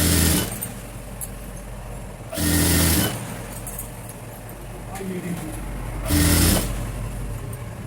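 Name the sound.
sewing machine stitching a frock's back neck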